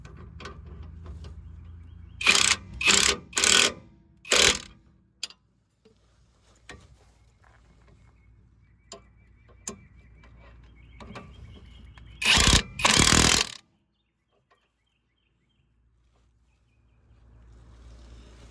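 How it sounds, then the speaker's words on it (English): 18 mm and 15 mm wrenches snug down the nuts on a steering stabilizer under a 1998 Dodge Ram 1500, producing several loud, close bursts of ratcheting and metal scraping separated by quiet gaps and faint clinks. "we're gonna snug these nuts down. Just take your 18 millimeter with your 15."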